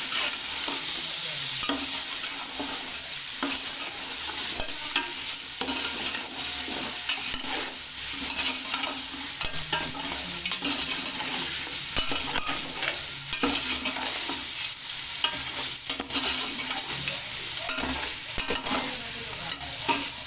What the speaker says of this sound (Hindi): ये अदरक लहसुन का पेस्ट ये भी शामिल कर दें, और इसकी 2 मिनट तक अच्छी तरह भुनाई करें